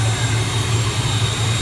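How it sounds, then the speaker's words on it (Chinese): A jet aircraft's engine gives a steady, loud roar with a low hum underneath, heard up close while passengers board a special charter plane. "一起乘坐飞机。"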